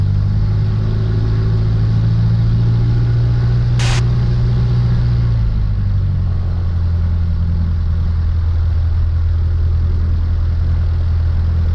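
A light aircraft engine at the Zephyrhills airfield rises from idle to a higher steady drone as power is added for taxiing, loud and close throughout, with a brief sharp click near the middle.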